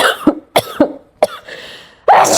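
Several sharp coughs from a pregnant woman in her first trimester, close and loud, spaced with short pauses, followed by a brief throat-clearing burst at the end.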